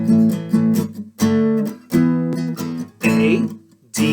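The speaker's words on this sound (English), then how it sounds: "I want you to understand where to find a power chord and how to play it." Distorted electric guitar power chords from a song strummed in short rhythmic bursts with brief gaps between chord changes, loud and close.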